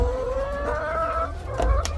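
Hens on a farm let out a drawn-out, wavering clucking call up close, with a few softer clucks and rustling behind it.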